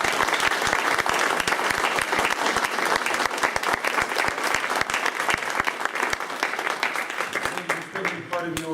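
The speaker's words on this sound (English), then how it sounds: "Go ahead and give them a round of applause." A crowd at a Shawnee Mission School District Board of Education candidate forum claps for the candidates, giving dense, steady applause that carries at an even level for several seconds before thinning out near the end.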